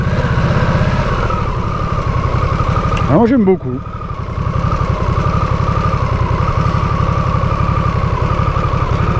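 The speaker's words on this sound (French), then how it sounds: "Profiter du moteur même tranquillement, on est plus dans les 3000 tours que dans les 1500" A Harley-Davidson Nightster motorcycle engine running at a steady, throbbing low rumble close by, with someone talking over it throughout.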